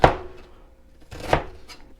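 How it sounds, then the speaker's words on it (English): Onion being diced with a knife on a board: two separate bursts of chopping, each a quick sharp cut followed by a fainter tap, fairly close, with quiet gaps and no talking. "But we're just cutting our onion."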